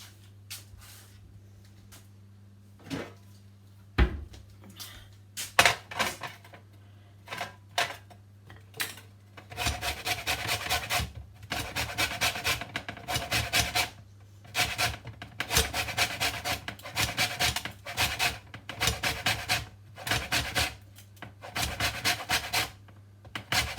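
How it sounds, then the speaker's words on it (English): Lemon rubbed against a grater for zest, a run of quick rhythmic rasping strokes that grows steadier and denser after a few scattered scrapes and knocks, close and fairly quiet. "Then I'm going to grate some of this lemon."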